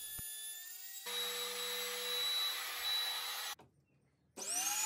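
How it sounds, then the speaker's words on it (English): A wood router fitted with a 5/16 bit recesses a cavity in a bench cart panel, a loud, steady high-pitched whine that cuts out briefly near the end, then starts up again. "I made several passes with the router using a 5/16 router bit."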